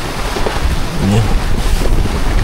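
Strong wind buffets the microphone at a lakeside campsite, a constant loud roaring rush with no break.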